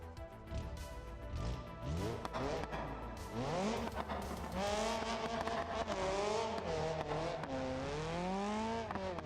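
A turbocharged race car in BeamNG career mode revs and accelerates through rising and falling gear pulls, with a loud, continuous engine whine and brief tire squeal, and no talk.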